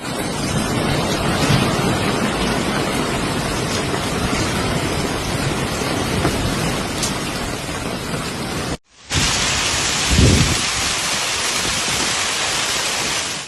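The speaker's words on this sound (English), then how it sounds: "hailstones measuring 3 to 4 centimeters rained down on the city" Hailstorm in Italy near Naples and Mount Vesuvius, golf-ball-size hailstones of 3 to 4 centimeters pounding down as a loud, dense, continuous roar, with a brief cut partway and a heavier thump soon after.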